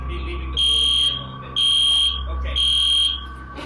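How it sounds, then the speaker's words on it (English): Fire alarm going off in a classroom during an earthquake, sounding in three loud, steady bursts of a high electronic tone with short gaps between, over a low background rumble. "the fire alarm goes off"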